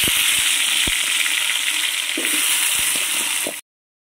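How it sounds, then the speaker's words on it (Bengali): Potatoes frying in oil in a pan over a home cooking fire, a steady close sizzle with a few soft clicks and taps from stirring, stopping abruptly near the end. "বন্ধুরা দেখো আলুগুলো ভাজছি আমি"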